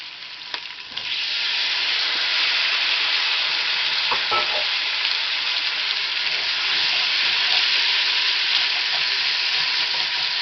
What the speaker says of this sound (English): Alright, I'm going to add in tomatoes.